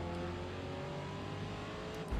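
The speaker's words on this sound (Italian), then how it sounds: "Il sound del motore mi piace." A racing car engine in Forza Motorsport drones steadily at a low, even pitch, held at moderate distance and fairly quiet, with a brief thump near the end and no talking.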